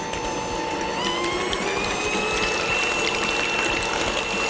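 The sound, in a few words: electric mixer whipping eggs until frothy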